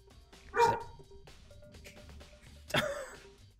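A dog barks in the video game Danganronpa, two sharp barks spaced about two seconds apart over quiet background game sound, with no voices.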